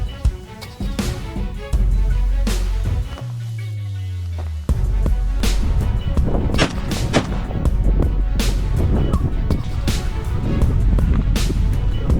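A rifle shot fired while hunting a wild boar destroying a cornfield, a loud outdoor blast that booms and echoes, amid wind noise and low rumble, with a second heavy impact following later.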